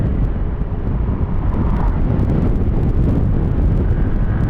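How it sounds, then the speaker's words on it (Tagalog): Steady wind buffets the microphone in a constant low roar while riding a Yamaha Aerox scooter at about 120 km/h, with a faint engine hum underneath and no talking. "Medyo mahangin din kasi dito eh"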